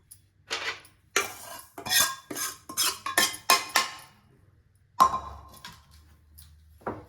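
A spoon scrapes and clinks against a steel bowl in a series of short, close, rhythmic strokes as sweet paniyaram batter is mixed into idli batter, with a brief pause near the end.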